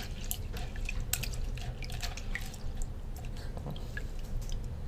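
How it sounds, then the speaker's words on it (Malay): Rice being washed by hand in a small amount of water to save water during a shortage, giving steady wet sloshing and dripping with scattered splashy clicks, close and moderately loud with no talk. "Lepas tu kita basuh Beras Tengok basuh-basuh beras pun"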